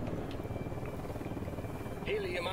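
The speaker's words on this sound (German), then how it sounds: "Heli im Anflug" Helicopter approaching in the video game Ghost Recon Wildlands, a steady rotor drone running throughout with game effects and a brief tonal sweep near the end.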